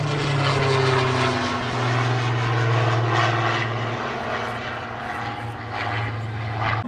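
A Spitfire propeller fighter with a big engine drones past at an air show, a steady loud engine hum with a strong low tone that shifts slightly in pitch as it flies by, with no voices over it.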